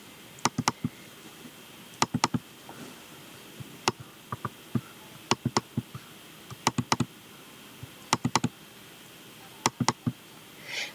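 Quiet, close clicks of a computer mouse in scattered pairs and singles across the span, sharp and brief over faint room hiss, with no talk.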